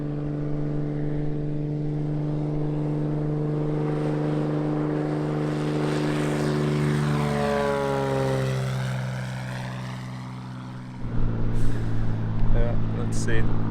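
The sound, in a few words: propeller airplane flying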